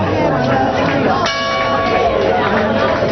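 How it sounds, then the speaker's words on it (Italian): Church bells ring loudly in Praiano at a concert, with a sustained, resonant tone, a voice speaking Italian over the clanging peals. "Buonasera, ben arrivate alle campane."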